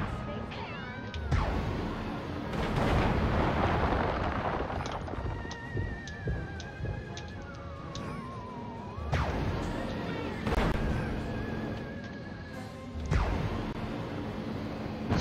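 Gunfire in Destroy All Humans! cracks out in several loud, sharp bursts spaced a few seconds apart, mixed with wavering, whining tones between the shots.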